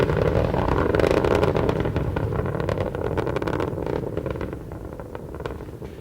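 Space Shuttle Endeavour's three liquid-fuel main engines during the STS-97 launch from Kennedy Space Center: a continuous loud, crackling roar that slowly fades as the shuttle climbs away.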